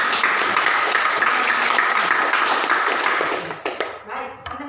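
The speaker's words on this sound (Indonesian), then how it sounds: "Oke, aplaus dulu." A classroom of students claps hands in steady applause that thins out near the end into a few scattered claps, with a voice briefly audible as it fades.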